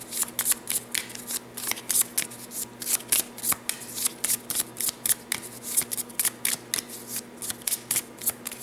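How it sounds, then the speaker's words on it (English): A deck of cards for the Enemy Action: Kharkov board game is riffle-shuffled repeatedly, crisp rapid bursts of flicking cards in a steady rhythm, close and clear with no talking. "now we shuffle these"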